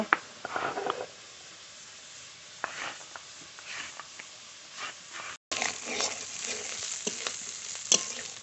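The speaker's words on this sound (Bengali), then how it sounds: "চিংড়ি মাছ খুব ভালো করে ভেজে নিয়েছি নামিয়ে নেব" Shrimp sizzle in a hot pan of oil as they finish frying, a soft continuous crackle with occasional louder spits, close by and fairly quiet, with a brief break partway through.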